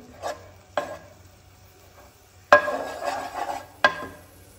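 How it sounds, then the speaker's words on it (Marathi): A small spoonful of ghee goes into a hot pan. Sharp metal utensil clinks are followed by a short burst of sizzling, then another clink. "पॅन जें आसा पळय न्ही तें बरें गरम जाला, तितून आतां हांव घालता एक बारीक चमचो सुमार तूप"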